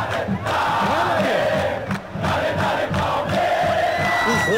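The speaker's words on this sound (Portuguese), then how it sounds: "a torcida está cantando, a torcida está empurrada" A stadium crowd sings and chants loudly in the Bomba Patch football video game, a dense roar with rhythmic rising chant phrases that fills the space without a break.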